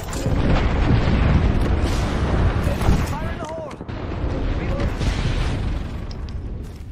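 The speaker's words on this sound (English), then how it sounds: "Airstrike en route." Video game airstrike sets off a run of heavy booming explosions, dense and loud throughout, with crackling debris and voices over the blasts.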